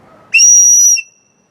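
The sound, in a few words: whistle built into the cap of a kubaton pen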